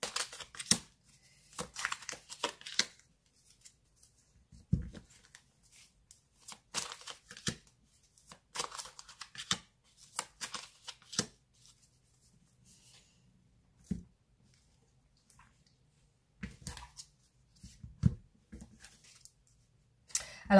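Playing cards shuffled and handled during a French tarot-style reading, with soft, scattered riffles, slides and taps coming in short bursts between quiet gaps, close and fairly faint.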